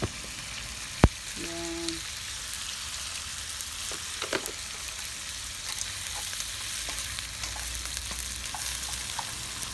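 Shrimps sizzling and frying in a pan in an outdoor backyard, a steady close crackle with a sharp clank near the start and a brief spoken word.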